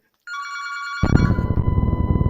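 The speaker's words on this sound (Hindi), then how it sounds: "मेरे को क्लाइंट का फ़ोन आ रहा है" A telephone ringtone trills steadily, starting faintly then joined by a louder, denser burst of ringing that continues to the end, with no voices.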